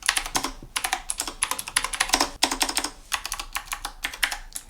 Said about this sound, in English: If there's anyone else in the room and you're typing with this keyboard, it's going to sound annoying.